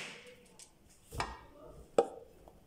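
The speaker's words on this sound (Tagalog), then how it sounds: "First kong hinati yung sayuti." A knife chops through chayote on a cutting board for vegetable juice, two distinct quiet close knocks on a hushed background.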